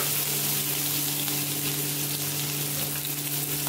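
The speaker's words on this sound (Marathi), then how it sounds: "तेल गरम झालेलं आहे, आता आपण त्यामध्ये ना अर्धा चमचा जिरं, अर्धा चमचा राई" Cumin and mustard seeds sizzle in hot oil in a pan, a loud, dense, continuous frying crackle close up with a steady hum beneath, no voices.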